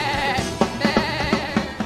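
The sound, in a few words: singer imitating a goat in a live song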